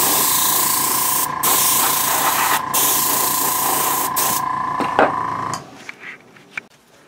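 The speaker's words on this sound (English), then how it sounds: "And let me airbrush this to show you how it looks." Hiss of an airbrush laying down flat white and deck tan paint on a studio-scale Rebel A-wing helmet prop: a steady, close spray with brief interruptions, then it cuts off and a few light handling clicks follow.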